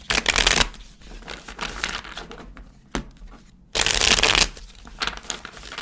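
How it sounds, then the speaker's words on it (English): Tarot cards are shuffled and pulled in bursts of papery riffling and crinkling, loud and close, with brief pauses between handfuls. "Let's pull some other cards and see what we have, Aquarius."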